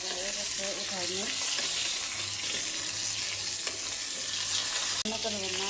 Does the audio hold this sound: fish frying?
yes